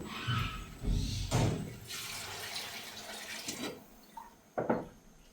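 Water being poured into a pan of fried spices and sauce, a splashing, gurgling rush in a few bursts that fades to quieter bubbling, with a couple of sharp clinks near the end, close by and with no voices.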